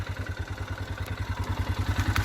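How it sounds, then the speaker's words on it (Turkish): A Kuba Viptrack 250 motorcycle idles close up, its exhaust giving a steady, loud, low pulsing throb with light mechanical clatter and no talking. "Gördüğünüz gibi egzoz sesi de böyle."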